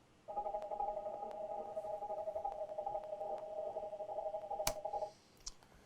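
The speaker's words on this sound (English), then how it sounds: "This is one that I've literally just used from freezing the reverb on the guitar track that I showed you before." Frozen reverb from a guitar track forms a sustained ambient pad, a steady droning layer that holds evenly for about five seconds with a faint click near the end before fading out.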